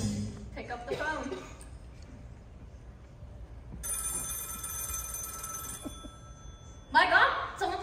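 A telephone bell rings in long, steady bursts during a student stage play, sounding from across the room while actors speak before and after the ringing.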